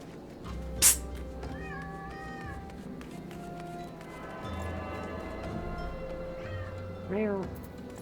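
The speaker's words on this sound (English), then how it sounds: "Meow." Several cat meows rise and fall at moderate distance over steady game background music and sound effects, with a sharp bright click between them.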